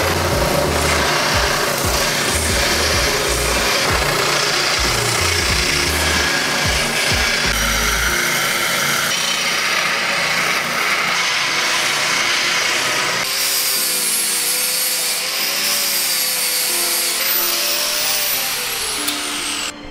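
A file works a forged steel blank for a Japanese-style marking knife in rhythmic rasping strokes for several seconds. A smoother, continuous grinding texture then takes over, with no talking.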